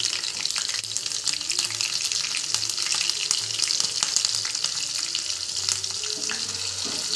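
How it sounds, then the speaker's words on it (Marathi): A tadka of mustard seeds, cumin and green chilli pieces frying in hot oil for dhokla, a loud continuous crackling sizzle with dense popping and a low hum underneath. "ढोकळ्यावर आपण तडका देऊ, तर थोडीशी मोहरी, थोडे जिरे, हिरवी मिरची तुकडे केलेले"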